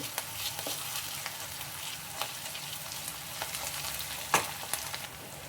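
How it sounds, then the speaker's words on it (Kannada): Ginger garlic paste sizzles and fries steadily in a pan for chicken gravy, a continuous crackling hiss broken by a few sharper stirring scrapes, with one louder clack near the end and no voices. "ಸೊ ಇದು ಹಸಿ ಸ್ಮೆಲ್ ಹೋಗೋವರೆಗೂ ಸ್ವಲ್ಪ ಫ್ರೈ ಮಾಡ್ಕೊಳ್ಳಿ"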